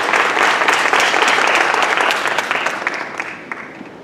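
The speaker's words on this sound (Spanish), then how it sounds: "un aplauso, por favor" Enthusiastic applause from an audience at a religious talk, loud and dense at first, then slowly thinning and fading over a few seconds.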